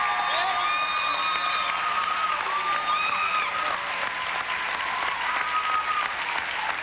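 Steady audience applause for a performer on a televised country music show, a dense, continuous clatter of many hands with a few faint whistles and cheers mixed in, holding at an even level throughout.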